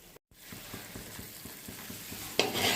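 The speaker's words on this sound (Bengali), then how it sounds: "আলুটা দিয়ে ভালো করে কষানো আমার প্রায় হয়ে গেছে" Small Chandramukhi potatoes sauté in a pan. A steady sizzle runs under rhythmic spatula scrapes, with a brief dropout early on and a louder hissing burst near the end.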